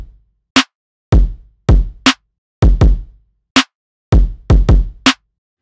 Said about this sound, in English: So I've got a drum loop here that I have drawn in.